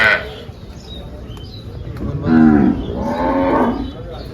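A Gir cow at a cattle market in Dhule moos twice in a row, long low calls with a strained, rising tone, fairly close, over a faint background hum.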